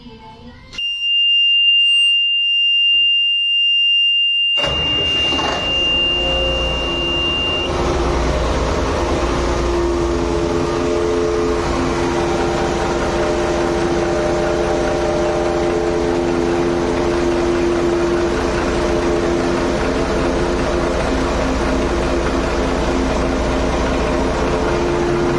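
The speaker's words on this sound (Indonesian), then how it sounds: "Nyalakan mesin." A Yanmar 6AYM marine engine starts after a few seconds of near silence, then settles into a loud, steady running drone with a constant hum that continues to the end.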